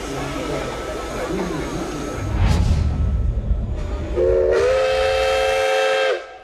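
A Soviet LV series steam locomotive sounds its whistle, a loud sustained tonal blast that rises then holds, following rumbling train noise and hissing steam.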